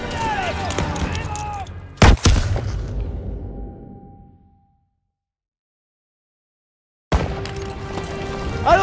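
Gunfire in Call of Duty: WW2 during the Marigny stronghold battle: dense, loud shooting builds to one sharp, heavy blast that rumbles away into silence, then the fighting resumes close and continuous.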